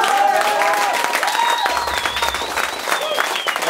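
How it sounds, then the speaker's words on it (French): Audience applause and cheering after a metal band's performance at a French-language music academy competition, dense steady clapping from a crowd with whistles and shouts, loud and sustained throughout. "on les applaudit s'il vous plaît"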